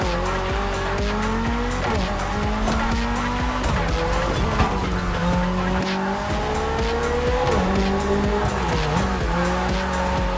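Toyota GR86 engine racing through neon-lit city streets in The Crew Motorfest, loud and continuous with rising and falling revs, gear shifts and tire squeal throughout.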